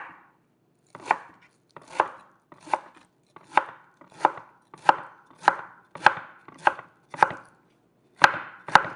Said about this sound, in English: Stack them up and cut them into little pieces